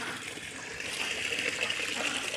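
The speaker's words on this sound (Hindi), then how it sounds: "ये पानी भर गया यार" Water pours steadily into an animals' water container at a small home mini zoo, a close continuous gushing splash that grows slightly fuller as the container fills.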